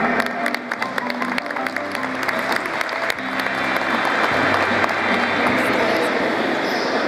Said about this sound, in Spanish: con fuertes aplausos recibimos a la profesora Ana Beatriz